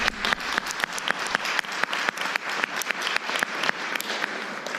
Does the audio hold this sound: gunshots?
no